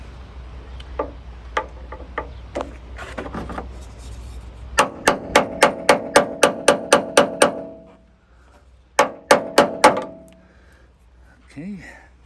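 A hammer strikes a chisel during a tailgate assist shock lift kit install on a 2016 Dodge Ram 2500 6.7L, with a few scattered taps, then a rapid run of about a dozen sharp close blows and a shorter burst after a pause.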